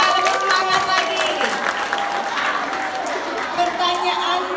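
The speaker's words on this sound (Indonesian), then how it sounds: "Tepuk tangan penonton, supaya lebih semangat lagi." Audience applause at a school quiz contest for junior high students in Bali fills the room with steady, dense clapping throughout, with voices and some tonal sound mixed in beneath it.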